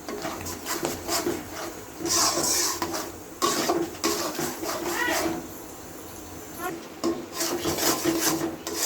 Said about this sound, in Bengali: এখন সব উপকরণ ভালো করে মিশিয়ে নাড়তে থাকবো